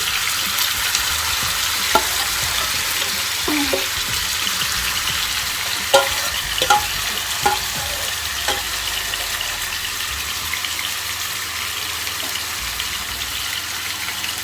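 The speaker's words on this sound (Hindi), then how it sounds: "अब ये चिकन फ्राई हो रहा है" Marinated chicken fries in a hot pan with a steady, close sizzle, broken by a few sharp pops and spatters as the pieces cook.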